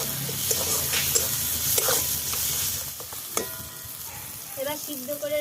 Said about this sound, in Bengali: এবার এটা ভালো করে কষাবো